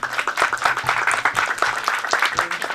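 An audience at a legal workshop on naturalization claps steadily, a dense patter of hands close by with no talking over it.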